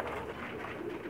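Pakistani pigeons coo on a rooftop loft in Jeddah, Saudi Arabia, a faint, steady murmur of soft overlapping calls with no voices.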